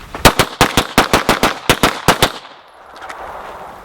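A rapid string of about a dozen handgun shots fired in a speed drill, sharp loud cracks in quick even succession, then ringing echo and quiet outdoor ambience after the last shot.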